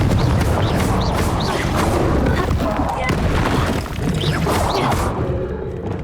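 A Confringo explosive spell blasting in Hogwarts Legacy, heard as loud booming bursts over dense, continuous game combat noise, with a voice talking over it.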